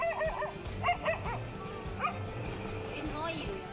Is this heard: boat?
no